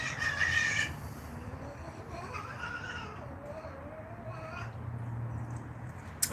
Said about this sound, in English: Two cats are fighting?